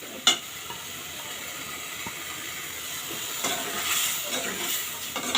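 Prawns fry in a pan and get stirred, giving a soft, even sizzle with occasional sharp scraping knocks, fairly quiet and close.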